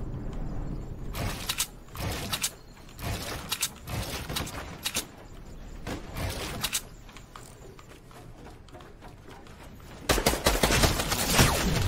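Rapid bursts of gunfire from the battle royale video game Fortnite, repeated sharp shots across the stretch with a denser, louder volley near the end, no talking over it.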